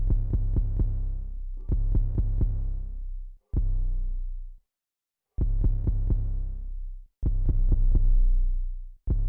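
Synth bass notes in FL Studio played with cut itself off, so each note's tail rings on under the next: quick groups of low, loud notes with long decaying tails, repeated in bursts with brief gaps, no talking.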